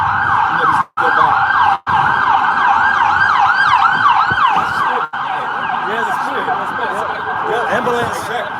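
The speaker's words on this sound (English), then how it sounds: "Ambulance. Yeah, ambulance coming down." An ambulance siren wails loudly on a city street, a steady cycling yelp close by with a second warbling siren layered in, while traffic rumbles underneath and a few sharp cuts interrupt the sound.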